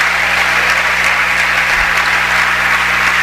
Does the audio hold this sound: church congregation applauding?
yes